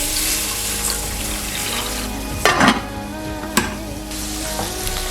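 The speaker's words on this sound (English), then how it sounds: "Start off by adding some coconut oil to your pot, and we're gonna go ahead and fry up some butternut squash." Butternut squash fries in coconut oil in a pot, giving a steady close sizzle and hiss with a couple of sharp clatters from stirring or the pot.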